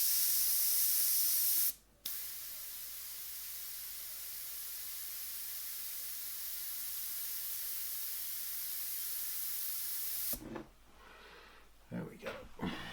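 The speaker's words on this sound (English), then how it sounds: "Just mist it out again." An airbrush spraying fine paint mist onto an airbrush portrait gives a loud, steady hiss lasting several seconds, cut off briefly near the start, before stopping and giving way to faint handling noises.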